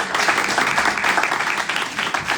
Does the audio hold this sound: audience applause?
yes